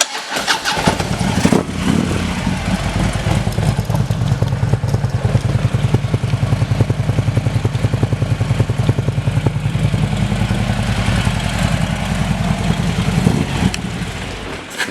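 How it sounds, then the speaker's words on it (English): A 2016 Harley-Davidson Electra Glide Ultra Classic with an S&S exhaust and high-flow air intake starts up and settles into a loud, deep, rumbling idle that holds steady close to the microphone. "Nice, low, rumbly S&S exhaust system."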